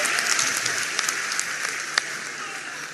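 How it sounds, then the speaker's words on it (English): Audience applause at a university gathering in Ghana, a steady wash of many hands clapping continuously, fairly even in level with a few sharper individual claps standing out. "a round of applause for him"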